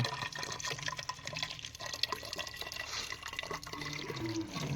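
Water pours steadily into a bottle from a tap outdoors in a forest, a continuous close gush and splash with no pauses.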